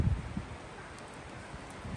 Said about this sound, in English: You hear the wind in the trees.